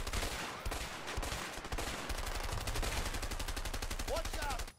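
Rapid automatic gunfire in the video game A Way Out, a loud sustained burst of shots that runs almost unbroken, dense and close, with brief gaps early on and a short rising electronic tone near the end.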